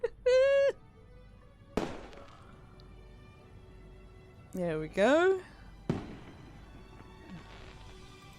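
Fireworks bursting in the haunted-house game Foolish Mortals: sharp broadband booms at about 1.8 and 5.9 seconds, each trailing off into crackle, between short bursts of tonal game sounds and a brief spoken phrase.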